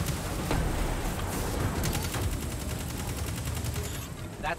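Rapid, loud bursts of scorch cannon fire in a video game crackle continuously, a dense barrage of blasts with metallic mechanical clatter mixed in.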